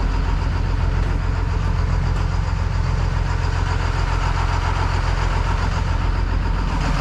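A tow truck engine idles loud and close in a steady, even rumble with a faint knocking texture, unbroken throughout and with no voices.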